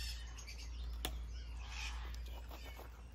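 Small birds chirp and tweet in short, scattered calls at a Bolivian animal refuge, moderately near over a steady low background hum, with one sharp click partway through.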